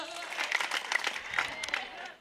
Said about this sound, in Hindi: ताली वाली हो जाओ बढ़िया जोर से जरा।